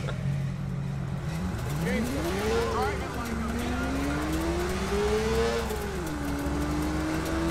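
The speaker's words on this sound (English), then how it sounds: "they kind of messed up the sound effects for when you are accelerating a lot with the motorcycle" Motorcycle revving and accelerating in Watch Dogs, engine pitch rising and falling in long sweeps over a steady low rumble of traffic, loud and close.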